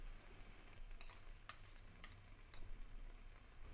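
Cashew and melon seed paste is stirred into a simmering gravy in a kadhai, producing a soft, faint sizzle broken by a few light clicks and scrapes of the spoon.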